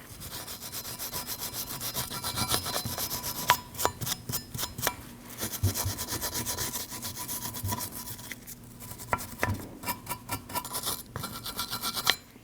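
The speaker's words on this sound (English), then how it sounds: "You want to clean that area good with a wire brush." Wire brush scrubbing a caliper mounting bracket on a Ford Escape during a front brake job, a close, steady raspy scratching in quick back-and-forth strokes with a few sharper bursts.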